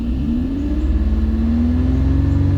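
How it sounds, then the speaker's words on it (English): A Lexus/Toyota car engine revs up from idle under diagnosis, a steady rising engine drone with a climbing pitch, close and loud, no talk. "Let's rev it up."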